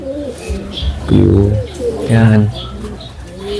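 Pigeons, flyer breeders, coo in deep repeated throaty phrases close by, with two strong bursts and softer calls between, while someone speaks briefly over them.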